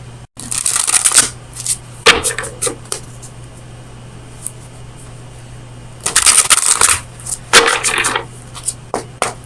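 Oracle cards from the Oracle of Visions deck are shuffled for a tarot reading, close and crisp, in two bursts of riffling and sliding separated by a quiet pause over a low steady hum.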